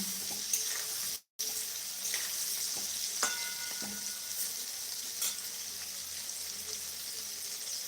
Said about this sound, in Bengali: আলুগুলো সেদ্ধ হয়ে গেছে এবার একটু গ্যাসটা বাড়িয়ে একটু লাল করে ভেজে নেব